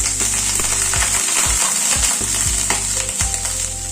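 Boiled potato and cauliflower pieces hit a hot pan and fry, a loud continuous sizzle punctuated by clinks and scrapes of stirring and thumps of the vegetables landing.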